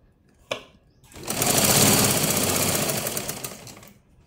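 A sewing machine stitches piping onto a blouse: a single click, then a loud, close burst of rapid, rattling stitching that swells, holds for a few seconds and stops abruptly.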